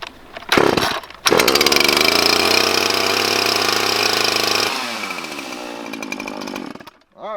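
A chainsaw fitted with a new bar and chain on a farm clearing job starts with short bursts, then runs at loud steady high revs, drops to a sputtering idle and briefly cuts out before firing again.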